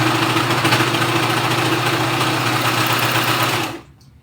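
A sewing machine stitching a blind hem runs at a steady, fast, buzzing pace, loud and close, then stops abruptly near the end.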